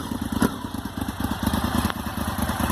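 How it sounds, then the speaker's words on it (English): Honda VTR1000 Firestorm motorcycle fitted with an experimental 2-into-1 exhaust, idling close by with a rough, lumpy, pulsing beat and a couple of slight throttle blips, no talk. "Here's a quick video of the Firestorm with a 2-into-1 exhaust."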